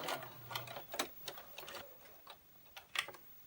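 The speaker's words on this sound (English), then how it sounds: "then sew again using a 1/4 inch seam allowance" A sewing machine stitches quilt pieces with a quarter-inch seam, giving a quiet, close run of light rhythmic ticks and clicks that rise and fall unevenly over a few seconds, with no talking.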